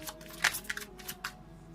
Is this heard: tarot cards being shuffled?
yes